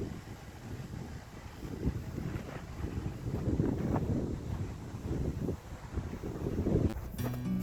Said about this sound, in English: try out the tent with some wind going on, see what it's like inside.